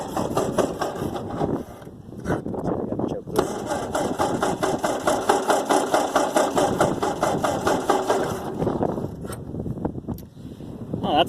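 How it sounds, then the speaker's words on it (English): A Ford 8N tractor engine cranks repeatedly after a shot of starting fluid, a steady rhythmic churning that runs about eight seconds without catching, loud and close, with brief pauses and handling noise before and after. "give her a little shot of starting fluid in here. I'll give it a crank"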